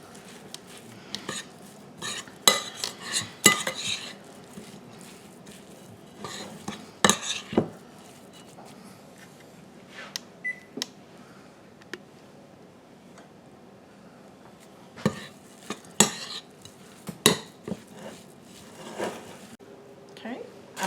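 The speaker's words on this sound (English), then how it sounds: "So we just stir this together." A blackberry crumble mixture stirred in a bowl: scattered scraping and clinking of a utensil against the dish, in short bursts with gaps, heard close under a voice speaking.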